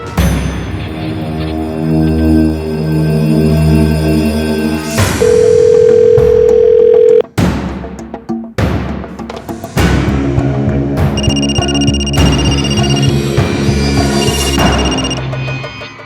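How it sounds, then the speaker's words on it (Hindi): A telephone rings on and on without being answered, its electronic ringtone loud and close, repeating with changing tones and short gaps and no voices. "फोन क्यों नहीं उठाया बे?"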